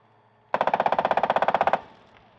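Machine gun fire on a gunnery range during military crew training: one loud, close burst of about twenty rapid evenly spaced shots lasting over a second, followed by a brief fading echo, with no voices.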